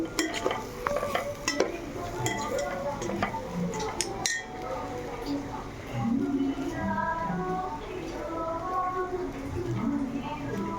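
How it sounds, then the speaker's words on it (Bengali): Rice and lentils stir-fried in a pot for khichuri, with the clatter and scrape of a spoon against metal and a soft sizzle beneath someone talking throughout. "এবার চাল ডালটাকে ভালো করে কষিয়ে নিতে হবে"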